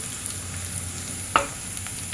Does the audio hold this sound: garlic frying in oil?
yes